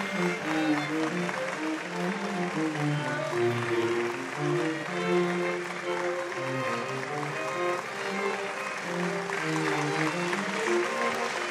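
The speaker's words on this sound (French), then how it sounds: "Il faut vraiment les applaudir parce qu'il le mérite très fort." Audience applause at an award ceremony during a 2009 convention at Les Vaux de Cernay, steady clapping lasting the whole stretch, mixed with music-like tonal layers underneath and no clear talk.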